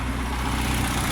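Honda Civic EJ1 engine running smoothly at idle, a steady close low rumble with even droning, alone and continuous through the short stretch.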